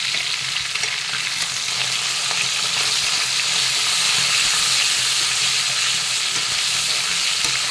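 Nigella seeds (kalo jeera) sizzle in hot oil left from frying hilsa fish heads, a dense, even hiss with faint crackles throughout, no speech.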